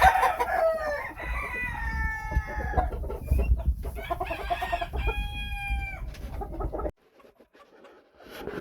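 Phoenix chickens on a farm: a rooster crows in long drawn-out calls several times close by, while hens cluck steadily underneath, the noise stopping abruptly near the end.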